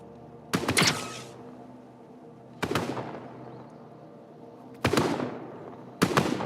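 Airstrike explosions in a video game land as four separate booming blasts a second or two apart. Each hits sharply and leaves a long rumbling tail.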